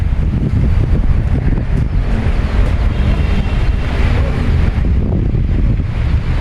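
Strong monsoon wind roars and buffets the microphone continuously at the coast, a loud rushing blast with steady low rumble throughout.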